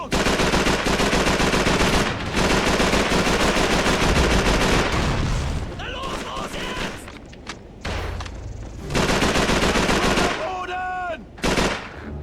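Dense bursts of automatic gunfire and explosions in Call of Duty 3 on PS2, loud and near for several seconds, then sparser shots and thumps with pauses, game effects ringing out between bursts.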